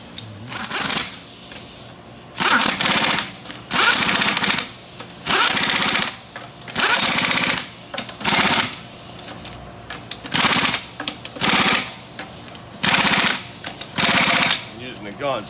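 Repeated bursts of an air impact gun fitted with a torque stick rattling lug nuts on a 2018 Ford Mustang GT, about a dozen loud, evenly spaced blasts separated by short gaps, with voices talking between them.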